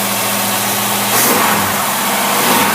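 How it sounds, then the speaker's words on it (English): A car engine fed by two AFB 500 carburetors revs hard, a loud rumble that rises sharply in pitch and intensity partway through and holds at high speed. "we're going to rev it up"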